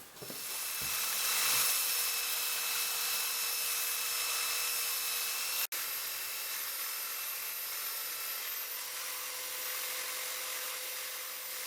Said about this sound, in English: Normally you're used to seeing my chamfer sanding machine, but I also have a flat attachment for it.